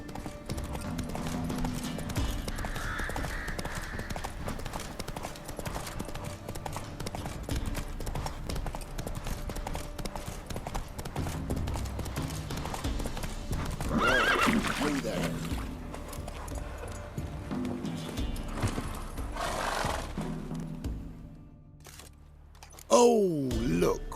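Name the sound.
horse Roach hooves and neighing, from video game The Witcher 3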